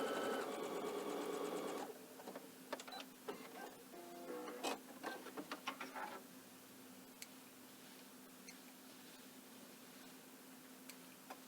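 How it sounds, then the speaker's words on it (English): A sewing machine stitches the final seam of a long fabric strip in a loud, fast, continuous burst for about two seconds, then gives way to scattered light ticks and clicks with faint background hiss. "Last seam that I have to sew here."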